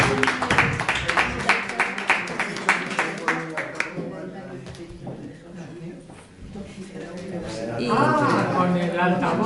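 A burst of clapping from a small crowd, dense and rhythmic at first, then fading as voices take over.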